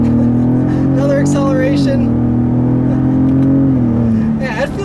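A 2017 Ford F-150 Raptor truck accelerating hard, its loud engine drone climbing steadily in pitch through the gears with a brief dip at a shift, heard from inside the cab.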